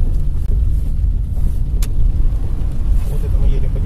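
A car drives along a road in Dnipropetrovsk oblast, giving a continuous close low rumble of tyres and engine with a steady level, a brief thump partway through and some wind noise.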